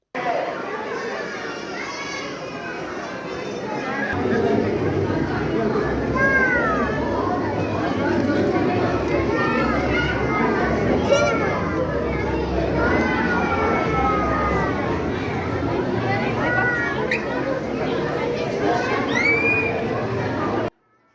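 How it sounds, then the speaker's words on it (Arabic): A crowded aquarium hall in Turkey echoes with many children's voices, high shouts and chatter overlapping loudly and continuously in a busy, reverberant din. "صوت العجقة كتير كان، وصوت الأولاد"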